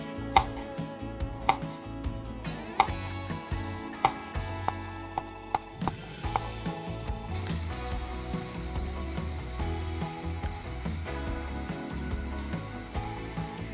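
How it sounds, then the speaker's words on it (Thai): Knife chopping cucumber into thin rounds for a Korean cucumber side dish, a steady run of sharp, close cuts on a board with some louder knocks, heard alone. "ก็หั่นเป็นแว่นเหมือนกันนะคะ เหมือนแว่นแบบนี้เลยค่ะ"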